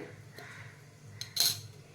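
Khurasani (niger seed) chutney is scooped from a grinder into a vessel: a few faint scrapes, then one sharp metallic clink of a spoon against the container, quiet and close.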